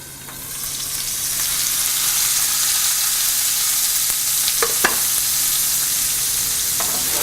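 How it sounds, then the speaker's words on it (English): Sweet potato and bacon frying in a lidded skillet over a medium flame, a steady close sizzle that swells in the first second, then holds even, with a few faint clinks. "Close the skillet with the lid and cook for about 3 to 5 minutes on medium flame."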